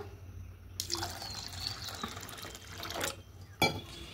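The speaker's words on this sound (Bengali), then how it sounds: "দেখুন এবার এখানে জল দিয়ে দেব" Water pours steadily onto washed mung and chickpea dal for a few seconds, close and splashy, with a short, sharper splash near the end and no talking.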